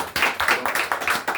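A church congregation claps in worship, a close, rhythmic run of steady claps at a brisk beat.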